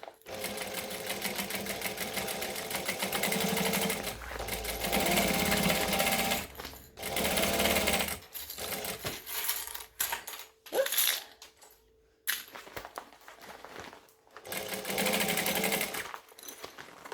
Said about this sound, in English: get it under the needle. And stitch it together.